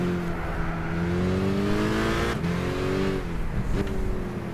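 A race car engine revs and accelerates in the Gran Turismo 6 video game, its pitch climbing and dropping through gear changes in a steady, loud drone.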